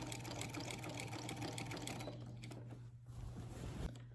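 A sewing machine stitches quilt binding, running steadily and close for about two seconds, then slowing to a few softer, halting stitches as it backtacks.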